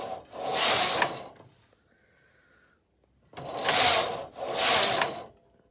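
A flatbed knitting machine carriage is pushed across the needle bed in three loud rasping passes, each a long mechanical swish, separated by a quiet gap.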